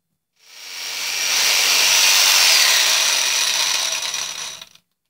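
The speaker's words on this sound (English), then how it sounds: "I'm going to take my drill saw and I'm going to cut a notch where I drilled the hole" A drill saw whines steadily through wood, cutting a notch for about four seconds, a loud continuous buzzing cut that starts abruptly and stops cleanly.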